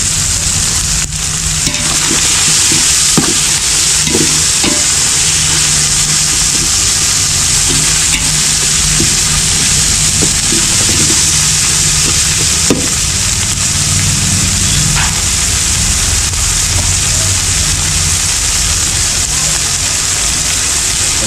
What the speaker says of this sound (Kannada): ಟೊಮೊಟೊ ಒಂದು ಮೂರು ಟೊಮೊಟೊ ಕಟ್ ಮಾಡ್ಕೊಂಡು ಇವಾಗ ಹಾಕ್ತಾ ಇದ್ದೀವಿ